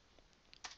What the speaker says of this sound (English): So what I'm going to do is I'm going to type name PDO underscore.